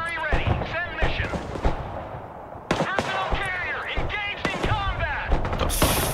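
Gunfire in the war video game Broken Arrow: sharp shots and bursts repeat in quick succession, mixed with talk and game effects throughout.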